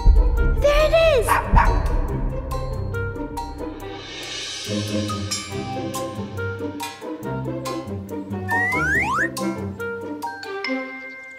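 Cartoon dog in a children's animated adventure, giving a few short barks and yips amid bouncy music and sound effects, with a voice speaking over parts of it.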